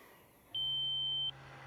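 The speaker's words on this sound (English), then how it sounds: "That's my timer." An RC jet flight timer, on an E-flite F-16 Falcon 80mm model, sounds one steady high-pitched beep lasting under a second, clear against a low background hum outdoors.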